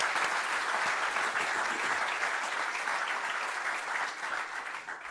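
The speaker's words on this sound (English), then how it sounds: "let me invite the audience to join me in a round of applause for our three panelists" A conference audience applauds three panelists at a California Public Utilities Commission event, steady dense clapping throughout that fades slightly toward the end, no speech.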